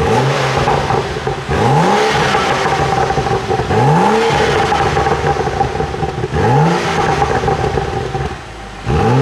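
A BMW N55 engine fitted with an Akrapovic exhaust, HJS downpipe and Stage 2 tune revs repeatedly, with loud, close blips that rise and fall every couple of seconds over a deep exhaust rumble.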